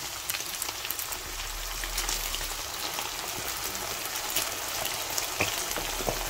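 Ground meat and tomato sauce for a potato and meat pie cook in a pan, giving a steady, fairly faint bubbling sizzle with scattered crackles throughout, with no talking.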